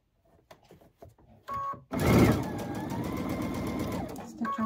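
A sewing machine stitches twine onto a small wooden spool, starting with a few sharp mechanical clicks before running in a steady, close whirring burst of stitching, with no voices.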